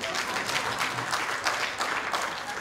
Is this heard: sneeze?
no